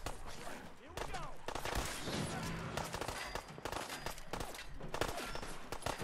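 Dense gunfire from the video game Fallout 4, with rapid overlapping shots and bursts filling the whole stretch, loud and continuous, with a voice speaking briefly in between.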